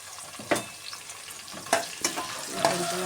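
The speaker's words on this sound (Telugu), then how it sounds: "పచ్చిమిర్చి కూడా వేసేస్తున్నాను ఫస్ట్ తర్వాత ఉల్లిపాయ ముక్కలు కూడా వేసేస్తున్నానండి" Green chilies and chopped onion fry in a pan for a pressure-cooker pulao, giving a constant close sizzle broken by a few sharp clinks and scrapes of stirring.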